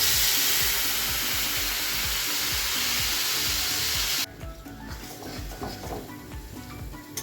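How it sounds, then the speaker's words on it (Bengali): Poppy seed paste dropped into hot oil in a kadai with nigella seeds, for a potol posto dish. It sizzles loudly and steadily, then settles into a softer, crackling fry. "কড়ার মধ্যে দিয়ে দেবো এই পোস্তর পেস্টটা"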